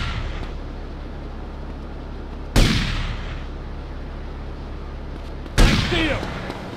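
Two loud gunshots from GTA Vice City, about three seconds apart, each a sharp crack with a short decaying tail over a steady low background hum.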